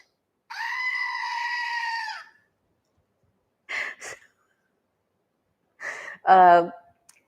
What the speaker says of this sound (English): getting me the Screaming Goat